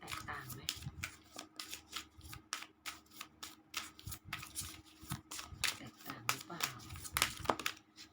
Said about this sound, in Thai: สับไพ่แล้วนะสับไพ่ให้ดูแล้ว